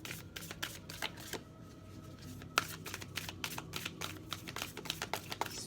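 New, slightly sticky tarot cards are shuffled in quick repeated riffles and snaps, close and moderately loud, one sharper slap standing out midway, with no talking.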